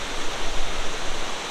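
A flooded mountain river in the Smokies after Hurricane Ida, swollen where a side branch joins it, roars as a loud, dense, continuous rush of whitewater with no voices.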